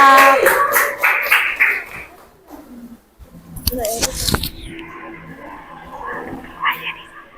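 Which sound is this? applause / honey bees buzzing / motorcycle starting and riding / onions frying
applause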